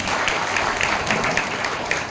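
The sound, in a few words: audience applause at a kirtan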